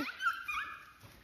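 Dogs chasing a rabbit outdoors give faint, high whimpering yips in a short run, heard from a distance with no talk.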